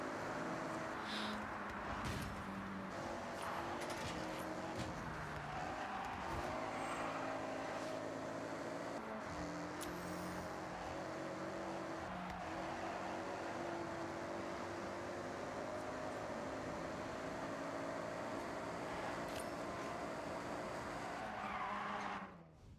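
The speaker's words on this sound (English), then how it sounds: "This car sounds terrible" A car drives hard in the Forza Horizon racing game, tires squealing and the engine droning continuously at a steady volume for over twenty seconds, with no voices.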